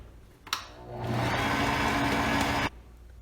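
An electric mixer beats vanilla cake batter just after vanilla essence goes in, starting with a click and whirring loud and steady for about two seconds before cutting off.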